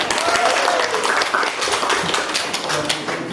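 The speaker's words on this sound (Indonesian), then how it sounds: "Kasih tepuk tangan Ade." A classroom of students claps for a classmate in a school library, brisk uneven applause with individual claps audible, fading slightly toward the end.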